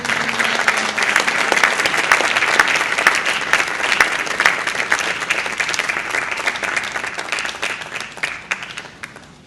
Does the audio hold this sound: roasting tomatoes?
no